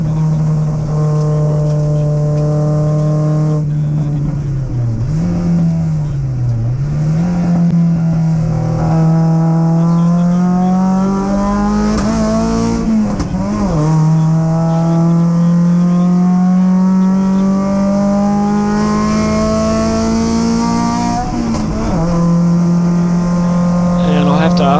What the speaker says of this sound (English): And I'll have to ask you, Al, what are you revving out to there?